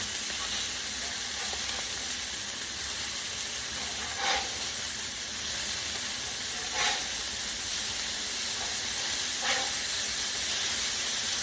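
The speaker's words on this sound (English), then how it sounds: "Hear that sear." Hamburgers sear on a hot pan with a constant, even sizzle and hiss, interrupted by a few brief louder spits and pops, with no talking.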